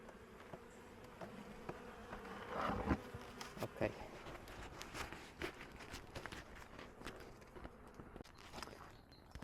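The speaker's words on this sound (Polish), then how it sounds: "tutaj też pszczoły pokarm pobierają, ale mają jeszcze sporo, sporo tego pokarmu" Honeybees crowd a hive feeding on sugar cake, their steady close buzzing filling the air alongside faint crawling and scratching ticks on the comb.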